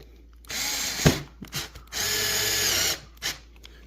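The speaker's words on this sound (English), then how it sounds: "And then you like the little 4-volt Ryobi screwdriver?" A small Ryobi 4-volt USB cordless screwdriver drives screws into pre-drilled kitchen cabinets, with two whirring bursts of the motor, the second longer, separated by brief clicks and handling knocks up close.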